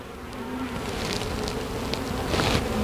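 Honey bees swarm over a hive frame marked with a little mold, a steady close hum of many wings that swells slightly toward the end.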